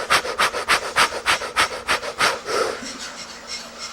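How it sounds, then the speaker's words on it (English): A person breathes in quick, regular pants, about a dozen sharp close breaths in steady rhythm, slowing into a longer exhale near the end, with no talking. "a little more breathing."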